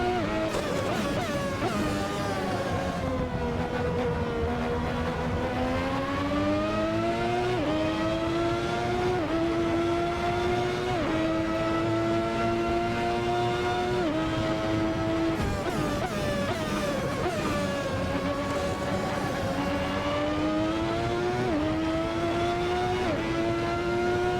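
A Ferrari 643 Formula One car in a racing video game screams through a high-speed corner, its loud engine note rising and dipping continuously as the throttle is worked, with no speech.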